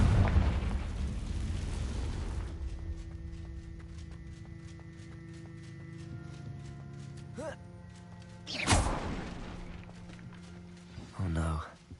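A Confringo fire spell from Hogwarts Legacy bursts in a sharp explosive boom, with a second, smaller blast a few seconds later over low game ambience and tonal music.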